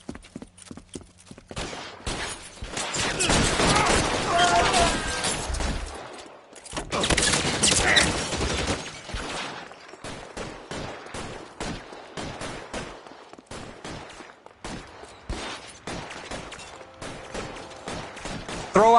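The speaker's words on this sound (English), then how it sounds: "Bullets start flying." Gunfire erupts in a video game shootout, with loud bursts of rapid shots and scattered single cracks continuing throughout, alongside hoofbeats and other game sounds.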